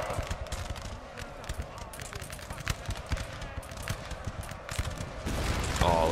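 Battle at Waterloo in Napoleon Total War, with dense rattling musket volleys and sharp cracks layered over charging troops and distant artillery, a loud chaotic din with heavy booms near the end.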